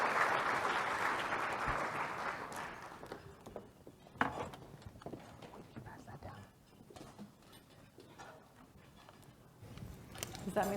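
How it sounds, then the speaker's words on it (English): Audience applause for panelists coming on stage at a community luncheon panel, a dense clatter of clapping that is loudest at first and then thins into scattered claps and murmuring over the following seconds. "Let's give our panelists a round of applause."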